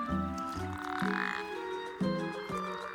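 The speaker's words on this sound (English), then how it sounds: "Usually, a release call by the love interest thwarts the would-be suitor." Low, rhythmic croaking release calls from a toad, repeated in short bursts about every half second, close by with no talking.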